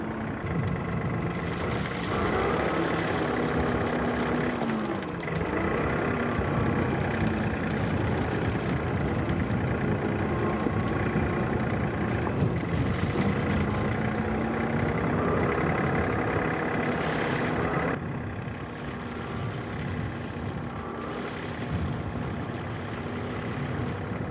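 A John Deere 3046R compact tractor's engine runs steadily under heavy load while working 2-inch rock on a driveway, a continuous low rumble with shifting tones that drops slightly in level near the end.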